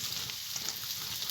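Ridge gourd tipped into a pan of potatoes already fried red with a little turmeric, sizzling and crackling steadily in hot oil, close and fairly loud with no talk.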